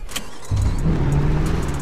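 A car in the GTA RP video game, on the Área 51 RP server: its engine catches and settles into a steady, loud, close rumble that carries on to the end with no talking.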